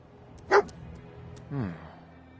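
Dogmeat, the German Shepherd companion in Fallout 4, gives a short sharp bark followed by a softer, lower whine-like bark, both fairly close, with no talking.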